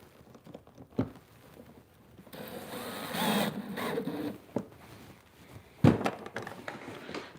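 Small screws being driven into a broken kayak hull, heard as faint, quiet mechanical whirring and scraping bursts with a few sharp knocks, close by and with no talking.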